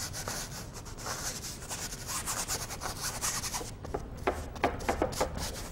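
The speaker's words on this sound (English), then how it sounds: "you get a room full of people painting and you have a symphony of brushes hitting the canvas" Paintbrush bristles scrubbing and dabbing across canvas while painting an urn, a continuous close, dry, rasping rub broken by quick strokes and taps toward the end, with no talking.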